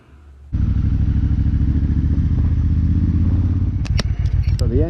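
A motorcycle rides at speed, its engine droning loud and steady with a rough pulsing note, closing off as it engine-brakes, with a few sharp clicks and clatters near the end.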